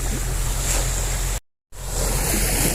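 Sea waves at Bonoan Beach, Pangasinan: a steady roar of surf with heavy wind rumbling on the microphone, broken by a brief dropout of silence midway.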